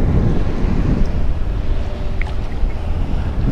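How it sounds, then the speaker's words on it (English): Large plow boat passing near an inshore saltwater fishing spot in St Augustine, with its wake waves: loud, continuous low rumbling wash and water churn, close and steady. "We got a giant plow boat came by."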